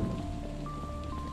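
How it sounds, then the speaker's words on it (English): Rain falling in FNAF Security Breach, a steady soft patter beneath faint tonal game ambience, brief and without speech. "Because it's gotta stop raining for me to be able to do this."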